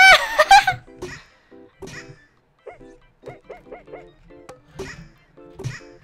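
Cartoonish dog barks in the video game BattleBlock Theater, a series of short, bright yips in quick rhythmic bursts, following a loud burst of game noise and mixed with playful sound effects.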